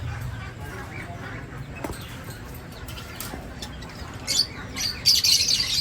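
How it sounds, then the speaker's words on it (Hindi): Ring-necked parakeets at a pet bird market give scattered squawks that start sparse and distant, then grow louder and busier toward the end. "यहाँ पर हमारे पास ब्रीडर पेयर पड़े हुए हैं रिंग नेक के"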